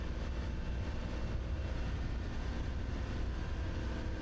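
Twin motors of a Sunseeker 55 Superhawk yacht accelerate toward 30 knots, a dense, steady low roar of engines and rushing water filling the whole stretch without talk.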